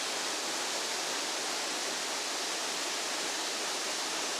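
A waterfall in Taiwan roars as a dense, steady wash of falling water, constant and fairly loud with no other sounds or voices.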